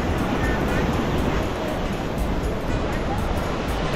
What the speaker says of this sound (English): welcome to Bingin Beach